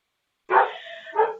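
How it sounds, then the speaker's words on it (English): A couple of short dog barks close by, one sharp yip followed by a second softer bark a moment later, with quiet before them. "please excuse my dogs if you hear my dogs"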